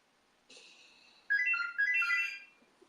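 A landline telephone rings in a quiet room during a live chat, a short, moderately loud electronic ring pattern with warbling tones and no talk over it.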